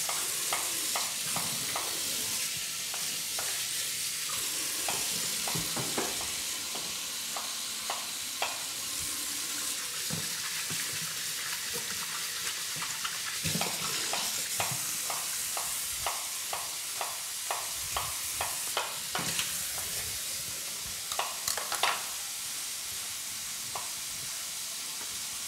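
Pieces of eel being seared quickly in a pan, a steady loud sizzle running throughout, broken by bursts of crackling and spitting and occasional stirring clatter, with no talking.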